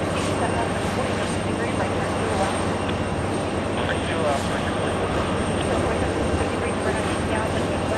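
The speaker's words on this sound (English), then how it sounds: "Lufthansa lifting off." A Lufthansa airliner taking off at JFK sends a loud, continuous broadband engine roar that stays level across the whole stretch.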